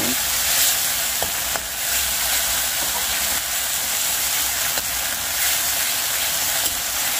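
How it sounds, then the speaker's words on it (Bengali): Panch phoron and other spices fry in hot oil for a fish curry, giving a steady, close sizzle with a few faint stirring clicks and no talking. "এখানে হচ্ছে মশলাটাকে ভেজে নিচ্ছি ফোড়নে একটুখানি পাঁচ ফোড়ন দিয়েছি"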